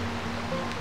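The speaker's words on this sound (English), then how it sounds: "beautiful little stream crossing" A small mountain stream flows past a trail crossing in Idaho's Selkirk Mountains, giving a soft, steady wash of running water, faint and continuous.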